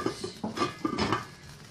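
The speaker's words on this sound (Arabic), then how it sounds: "هاخد الكفته هي بعد ما اتحمرت هنزلها في قلب الصلصه" Fried kofta dropped into tomato sauce in a pot, a close series of soft clinks and wet taps from a utensil against the pot, several quick strikes then a brief stir.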